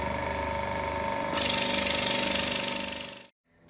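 An HS100 mini compressor motor runs steadily with a buzzing mechanical hum. Partway through it shifts into a louder, harsher whir, then cuts off abruptly.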